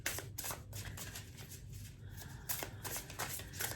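A deck of tarot cards being shuffled during a reading, a continuous close riffling and sliding of cards with brief crisp flicks, faint and steady throughout with no voice.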